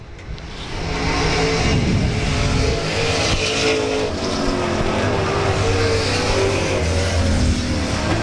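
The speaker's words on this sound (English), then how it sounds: "As once again we have a drag race down the backstretch." Race cars at South Texas Speedway roar together down the backstretch in a drag race, a loud, sustained engine drone with layered revving that holds steady throughout, no voices.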